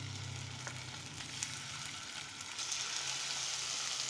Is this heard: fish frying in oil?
yes